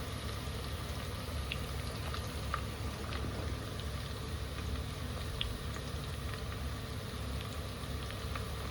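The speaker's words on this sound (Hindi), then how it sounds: "इधर अच्छे से मसाला फ्राई हो रहा है" Masala sizzling and frying in a pan on a home stove while veg pulao is being prepared, a steady soft crackle and bubbling with scattered small pops, close and moderately quiet, with no talking.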